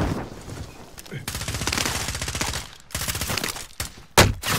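Rapid automatic gunfire rattles through a Warzone match in long dense bursts separated by brief gaps, loud and close, with a sharp heavier shot near the end and voices talking over it.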